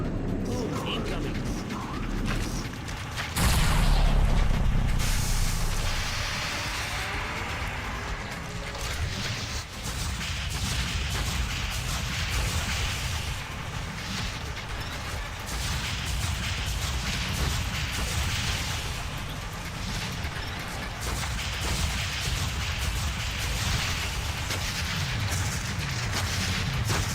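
Bombs exploding in a tower defense first-person shooter game, a loud deep boom followed by sustained rumbling blasts and gunfire layered under a player's commentary.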